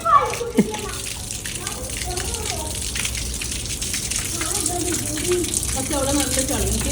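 Water splashes and gushes steadily close by as a child is bathed, while children's voices chatter and shout over the running water.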